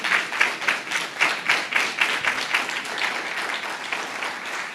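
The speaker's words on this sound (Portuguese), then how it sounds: "Eu gostaria que você ficasse de pé, dando uma salva de palmas para Jesus." A church congregation stands and applauds, a crowd clapping together in a strong rhythmic beat at first, then blurring into steadier, slightly softer applause.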